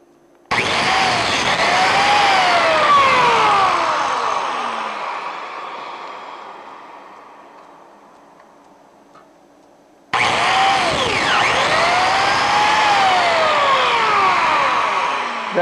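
A biscuit joiner cutting slots for Clamex connectors makes two loud, close motor whines. The first spins up, cuts and slowly winds down over several seconds, then after a short quiet a second cut starts abruptly.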